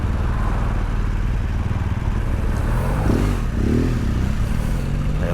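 A motorcycle on a Peak District ride pulls out onto a 60 mph road and accelerates hard, the engine note loud and close and rising through revs over steady rumble and wind.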